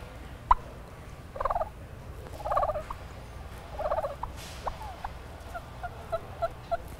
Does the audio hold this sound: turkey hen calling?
yes